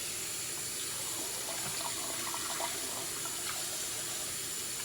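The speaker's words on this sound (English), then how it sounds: "I'm going to give it another wash." Tap water runs steadily into a kitchen sink as raw turkey legs are rinsed for Caribbean-style jerk turkey, a continuous close splashing wash with no talking.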